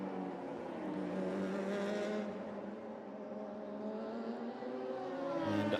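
Radical race car with a 1.5-litre ex-Hayabusa engine howling around a circuit, a steady high-revving whine that rises, eases and climbs again, faint and somewhat distant with a sharper burst at the end.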